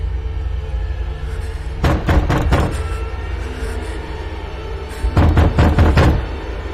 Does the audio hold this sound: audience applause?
no